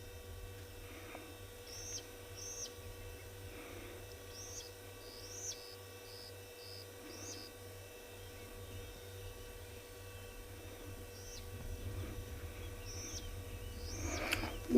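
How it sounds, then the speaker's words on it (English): Scattered bird calls in a quiet early-morning savanna at sunrise, brief chirps repeating every second or two at moderate distance over a low steady hum, with no other activity. "You might hear a few birds here and there, but it's just very quiet."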